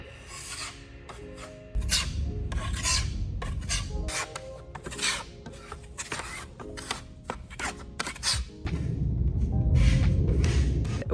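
Steady rasping scrapes of a tool spreading a thin coating along edges during a camper van build, repeated strokes close up with background music.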